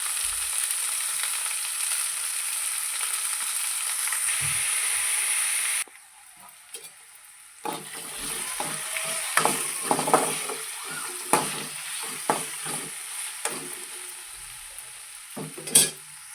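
Ivy gourd frying in a pan with green chilli pieces and salt: a steady hissing sizzle, then a quieter stretch where a spatula scrapes and knocks against the pan in irregular strokes over a continuous fry.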